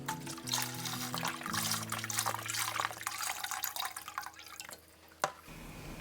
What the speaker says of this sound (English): Pour in 2 containers full of chicken stock.